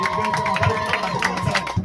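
Congregation in a church in Palma, Mozambique, claps and cheers together in a lively burst, with raised voices and shouts mixed into the rhythmic clapping.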